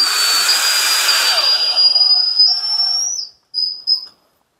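A power screwdriver drives a screw into the hinge of an interior door, whirring loudly and close with a steady high whine that winds down, followed by two short final bursts.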